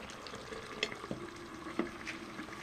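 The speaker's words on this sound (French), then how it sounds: "le plat il est en train de mijoter." A minced meat and aubergine tajine cooks in a low, quiet bubbling sizzle, with a few soft clicks and knocks from the pot, heard close and alone for a short moment.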